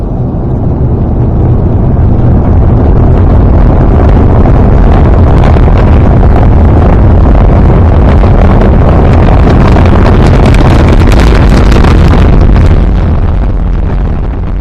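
A deep, continuous roar from a SpaceX Falcon 9 rocket launch at night fills the whole stretch, loud and crackling with rumbling bursts and no letup.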